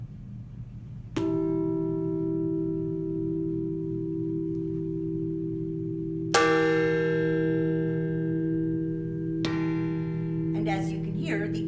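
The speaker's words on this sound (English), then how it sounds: "The first way we ring it is with a rubber mallet, like so." A Liberty Bell replica rings out three times from rubber mallet strikes, each a soft onset followed by a long, humming sustained tone, with a voice briefly audible at the end.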